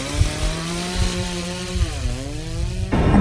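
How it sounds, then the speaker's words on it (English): A chainsaw engine revs and drones loudly nearby, its pitch dipping and rising before surging to a harsher roar at the end. "the foreign man came while turning on the chainsaw"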